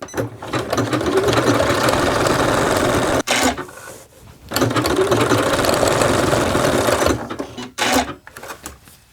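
A sewing machine stitches small heart-shaped eyes onto a fabric caterpillar soft toy, running in two loud, fast whirring bursts separated by brief pauses, with no talking.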